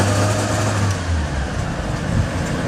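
A boat's engine, fired up after the blower runs, rumbles close by with a low, steady idle tone that soon blends into broad mechanical noise during a short stretch.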